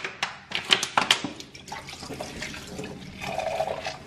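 Water splashing and running while someone washes up quickly at home during a water shortage, with uneven bursts of splashes and drips, then a steadier stream of flowing water toward the end.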